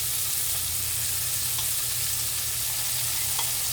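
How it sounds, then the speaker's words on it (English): Scallops sizzle in a hot skillet, a steady close hiss of searing with a few small pops, no voices. "I'm just going to drop the scallops in. You hear that sizzle?"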